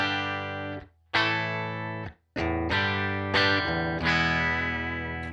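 A Gretsch Duo Jet electric guitar goes dry straight into a Fender Super Reverb amp. A few sustained chords ring out alone, each one cut off briefly before the next strum.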